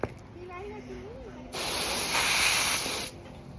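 A voice speaks briefly, then a loud, steady hiss of pressurized water spraying onto a big rock starts and runs for about a second and a half before cutting off.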